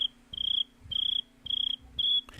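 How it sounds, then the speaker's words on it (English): Crickets chirp as a sound effect, five evenly spaced bursts of rapid, shrill trilling with short silences between, close and clear, with no talk over them. "You're playing crickets"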